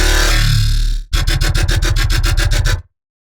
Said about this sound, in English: let's change it to something fast, like the 1/8 triplet